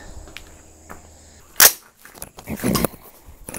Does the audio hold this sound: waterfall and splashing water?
no